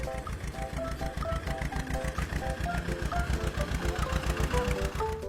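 Cartoon tractor engine chugging steadily and loudly with a rhythmic mechanical knock, carrying a simple melodic tune over it throughout.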